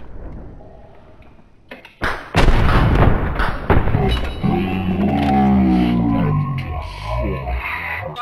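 Winchester rifle gunshots in a video game: a heavy booming shot at about two seconds is followed by a long echoing rumble and tail, loud and near.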